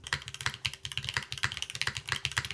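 Rapid, steady keystrokes on a hot-swap mechanical keyboard with SW Choco switches, a thick stock PC plate, TX stabilizers and GMK keycaps in a stiff top-mount build. The clacks are crisp and close, with nothing else heard.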